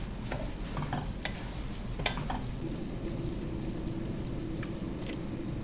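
Washed Kaima rice being stirred and fried in ghee in a pot for fish biryani, giving a steady close sizzle with scraping stirs and occasional clinks, no voices.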